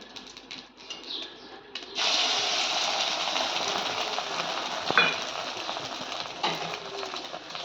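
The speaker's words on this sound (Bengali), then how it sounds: "ডাল হয়ে গেছে, এবার ডিমটা ভেজে নিই" An egg hits hot oil in a home kitchen pan and bursts into a steady, close hiss of frying that carries on alone, with a brief clink partway through.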